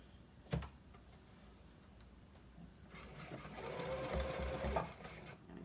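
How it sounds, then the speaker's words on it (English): A sewing machine stitches a zigzag on fabric, starting with a brief thump and then building into a fast, steady whirring hum that rises and holds for a few seconds, fairly close but quiet. "I'm going to leave it on zigzag stitch for this."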